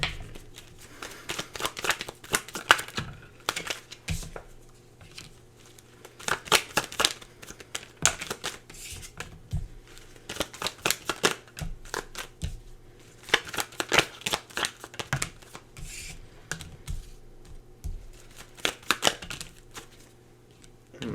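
Tarot cards are shuffled close up in repeated bursts of riffling and flicking, with short pauses between the flurries and no voices over them.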